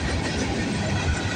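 A Norfolk Southern freight train, the 15M with two BNSF locomotives, rumbles past close by at Bayview Road, a continuous loud roar of rolling wagons with no talking.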